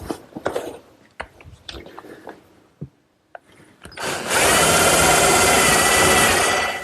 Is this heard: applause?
no